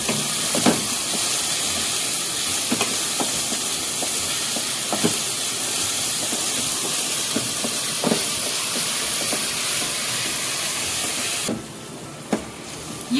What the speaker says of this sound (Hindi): ये मेरे अनियंस कुक हो रहे हैं।